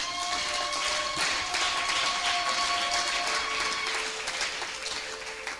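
A church congregation applauding together, a steady wash of clapping from many hands that fills the room at an even level, with faint sustained tones running underneath.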